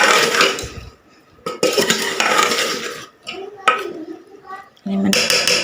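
Ingredients for pumpkin and meat curry stirred in a pot, with loud close clinks and scrapes of a spoon against the metal in several bursts separated by short pauses.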